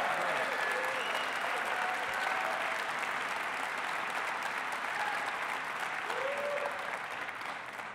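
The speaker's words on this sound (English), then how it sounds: "let's give him and all his colleagues a round of applause." Audience at the 2018 New York State Democratic Convention applauding, a steady wash of clapping heard from a distance, fairly faint, with no break across the whole stretch.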